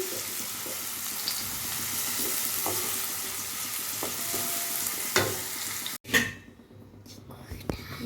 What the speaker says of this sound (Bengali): এবার আমি বেরেস্তা ভেজে নিচ্ছি